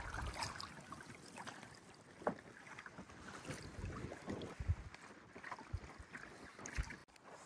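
Canoe paddling on Lake Opeongo on a breezy June day, with soft paddle dips and water splashes repeating irregularly over steady wind noise buffeting the microphone, close by and fairly quiet.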